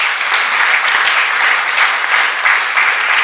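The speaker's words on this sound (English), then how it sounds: "I think they deserve no less than another warm round of applause." A loud, close round of applause from the audience at a Malay literary awards ceremony, with dense, steady clapping throughout.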